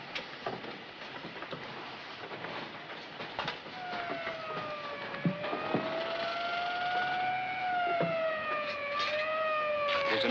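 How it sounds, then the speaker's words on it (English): An ambulance siren wails, rising and falling over a rumbling, rattling background, growing gradually louder as it draws nearer. "There's an ambulance coming"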